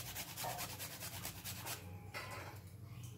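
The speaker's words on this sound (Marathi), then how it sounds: "सगळ्यात शेवटी यावर जायफळ किसून घालायचं आहे" Whole nutmeg is grated over dry fruit laddu in quick, close, raspy scraping strokes that carry a soft rhythmic pulse. The strokes stop briefly partway through, then resume more faintly.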